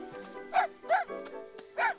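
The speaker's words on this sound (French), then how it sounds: "je me suis dit qu'il pouvait bien nous filer un chien" A cartoon dog yips in three short, close barks spaced evenly over a steady background tone.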